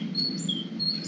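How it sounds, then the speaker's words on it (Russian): Birds sing outdoors on Corfu, giving a few faint, thin, high chirps and short tweets over a low background hum during one brief moment. "Птички поют."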